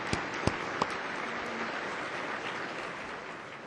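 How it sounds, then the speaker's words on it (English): Audience at the Greater Houston Partnership State of the City event applauds its sponsors, a sustained wash of clapping throughout with a few sharper individual claps near the start. "Let's give everybody who sponsored today a round of applause."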